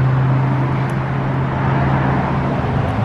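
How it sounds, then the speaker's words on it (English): Loud, continuous roar of traffic on a busy street on a cold day, cars rushing past close by with a steady engine hum and no voices. "This street is such a busy street."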